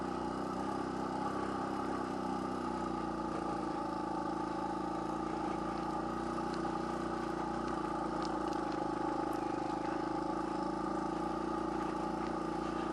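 A motorcycle climbs a steep backroad hill near Baños, Ecuador, held in first gear at low speed, its engine droning steadily and close throughout with a constant rumble and wind noise.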